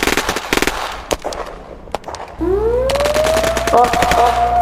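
Rapid bursts of gunfire in the video game Melon Sandbox crackle and pop in quick volleys, then a rising electronic whine and steady hum take over, loud and close.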